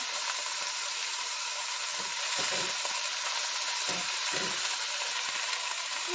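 Food sizzling and frying in olive oil in a pan, with chicken, spinach, mushrooms and lentils being cooked: a continuous bright hiss with a few soft scraping stirs partway through, close up and without talk.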